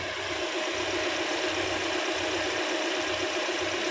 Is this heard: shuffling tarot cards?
no